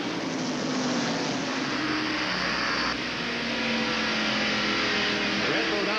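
Stock race cars at the 1990 Tyson Holly Farms 400 roar past in a pack, a loud continuous engine drone with rising and falling pitch from several cars, over steady crowd and track noise.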